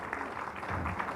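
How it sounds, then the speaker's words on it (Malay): Audience applause at a live talk show, a steady broadband patter of clapping sustained throughout at moderate level with no talk over it. "berikan satu tepukan gemuruh kepada mereka"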